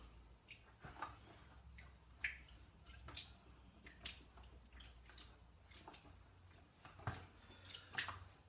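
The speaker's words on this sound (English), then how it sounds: "Let's just get in and squish them." Sloe berries squished by hand for wine make soft wet squelches and drips, spaced out in irregular bursts, close and fairly quiet, with no voices.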